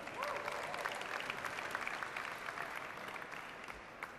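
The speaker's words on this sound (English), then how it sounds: "give them a big round of applause" Sustained applause from an audience at the Creative Commons Qatar launch event fills the room as a dense, even wash of many hands clapping, moderately distant, without a break.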